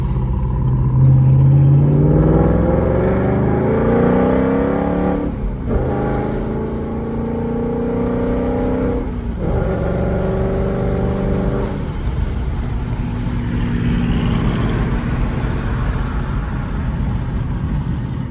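A stock V6 Ford Mustang engine revs and accelerates with an upgraded exhaust, a loud, steady, close-up drone whose pitch climbs in surging steps and then settles into a lower rumble.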